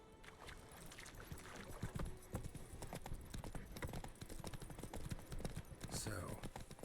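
In The Witcher 3 video game, Geralt's horse Roach moves along with a quick run of hoof clip-clops, and voices talk over it throughout.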